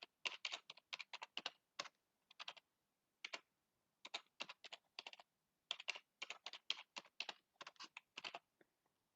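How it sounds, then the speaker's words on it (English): Fingers tap a password on a computer keyboard in quick, clustered bursts of crisp clicks separated by short pauses, close and quiet with no voices. "And then I'm going to put in a password."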